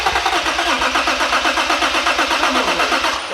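A Toyota Mk3 Supra engine cranks with a rapid, rhythmic chugging from the starter, loud and close, pulsing evenly for several seconds as it tries to fire during a first start while timing is being set.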